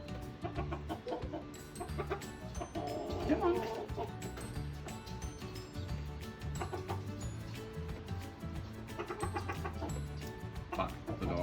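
Chicken clucking in a backyard amid music, the bird's calls mixed under a busy soundtrack with a person talking briefly.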